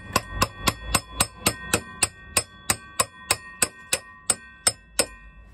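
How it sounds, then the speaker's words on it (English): A hammer taps a tight-fitting spacer into place while rebuilding a 2002 Piaggio Liberty 50cc scooter: about eighteen sharp, evenly spaced metallic strikes with a bright ringing tone, close and loud, with no talk. "I just need to tap that now with a hammer."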